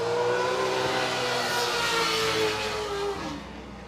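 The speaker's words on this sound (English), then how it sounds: "Nothing like the sound of a V8." A V8 engine on an off-road race car roars loud and close, holding a steady rev that fades slightly near the end.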